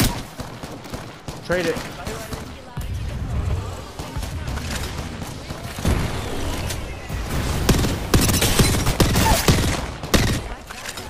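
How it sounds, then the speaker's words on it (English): Rapid bursts of gunfire in the Apex Legends video game, dense and loud across the whole stretch, with heavy thumping shots layered over one another and players talking briefly over the shooting. "He getting shot by the left."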